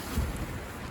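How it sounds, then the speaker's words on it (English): Wind buffets a TP1 Tigris tent in a storm, a close, rumbling gust pressing on the fabric for a brief moment with no voices. "Gusting away."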